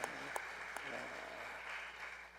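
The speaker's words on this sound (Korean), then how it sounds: "우리 박수하겠습니다." Congregation applause at a family church service, a steady wash of clapping with a few sharper claps standing out, fairly faint and continuous throughout.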